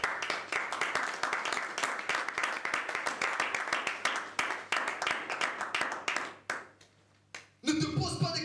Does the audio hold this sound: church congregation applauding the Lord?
yes